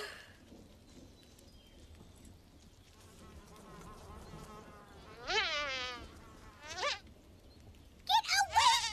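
A housefly buzzes in short, rising and falling bursts, loud and close, over faint background noise.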